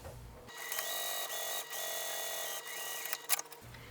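A sewing machine stitches along a fabric pouch edge in a steady close run of about three seconds, with brief dips in speed, starting and stopping abruptly.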